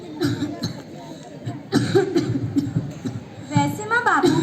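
A man coughs in a school stage play, with several harsh, throaty coughs in quick bursts close to the microphone and a brief voiced, laughing or throat-clearing quality between them.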